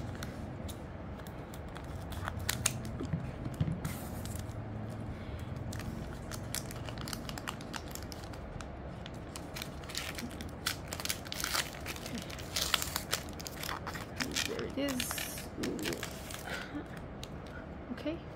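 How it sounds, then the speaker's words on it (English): Magic: The Gathering collector booster sampler pack being opened, a steady stream of crinkling foil wrapper and shuffling cards, close and fairly loud, with occasional sharper crackles and faint talk underneath. "let's open up our bonus collector booster sampler pack"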